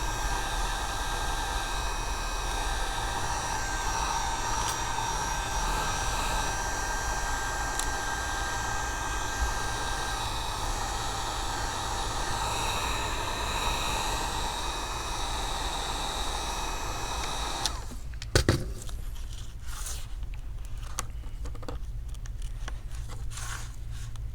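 A heat gun warms an iPad Pro 9.7 screen for removal, producing a steady close blowing hiss with a faint whine that cuts off near the end, followed by brief clicks and handling, no speech.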